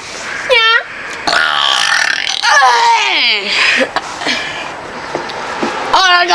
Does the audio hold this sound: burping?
yes